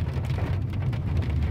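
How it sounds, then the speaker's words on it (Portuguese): Steady rain falls on a hiking trail in heavy fog, a dense continuous patter with a low rumbling undertone and no voices. "Aliás, tá chovendo tudo aqui"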